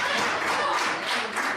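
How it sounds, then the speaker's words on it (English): A wrestling crowd at a SHIMMER women's match applauding, dense continuous clapping with a steady wash of crowd noise, fairly loud and without any talk over it. "Crowd getting behind Statlander,"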